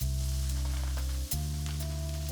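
Onions frying in oil with curry powder in a pan give a steady, dense sizzle with a low hum underneath and a brief dip partway through, no voices.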